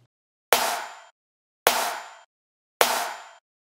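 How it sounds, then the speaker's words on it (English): Three identical hits of a layered clap and snare sample from an EDM drop, each a sharp, bright crack with a short noisy decay, evenly spaced about a second apart, loud and isolated. "the snare sounds like this"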